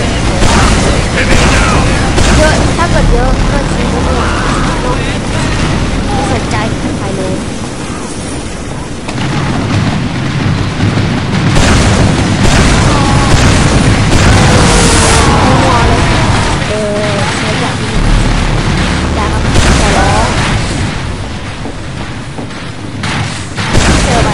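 Repeated loud booming explosions from Team Fortress 2 in Mann vs. Machine mode, dense and continuous with heavy low rumble across the whole stretch, mixed with game noise and faint voices.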